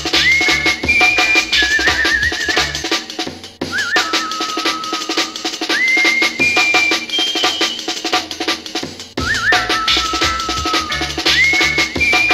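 Whistle blown at a live rave during a Halloween event, shrill repeated blasts in short phrases that ride over loud, pounding dance music.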